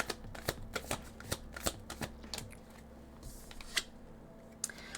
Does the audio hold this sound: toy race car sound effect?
no